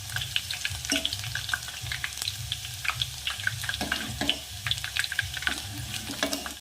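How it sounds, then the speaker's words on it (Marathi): Chopped onion fries in hot oil in a pan for a spicy stuffed brinjal curry, a dense continuous crackling sizzle close by, with scattered pops and light utensil clinks. "हां तापलं आहे आता कांदा ॲड करू कांद्याला थोडं पकू द्यायचं आहे"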